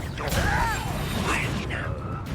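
Expelliarmus, the disarming spell in the Hogwarts Legacy video game, bursts out as a loud magical whoosh with sweeping, shimmering tones that rise and fall over a dense game backdrop for about two seconds.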